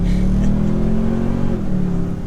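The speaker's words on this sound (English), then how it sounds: "It feels and sounds just like a super meaty V8." A 2023 Toyota Sequoia Platinum 4X4 hybrid twin-turbo V6 accelerates with a deep, steady, loud engine drone that rises slightly in pitch, heard from inside the cabin with no talking.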